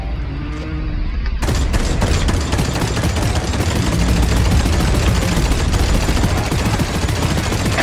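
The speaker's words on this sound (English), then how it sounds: "character has a machine gun, but I chose this because once it gets warmed up, it does so much damage" Sustained machine gun fire in the co-op shooter game Deep Rock Galactic, a loud continuous rattle of rapid shots that starts after a quiet second and keeps going nonstop to the end, with no talking.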